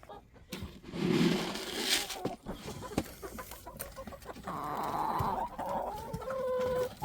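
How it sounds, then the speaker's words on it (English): Chickens clucking and squawking nearby, several birds calling in irregular bursts, with scuffling and a drawn-out cackle toward the end. "Time to feed the chickens."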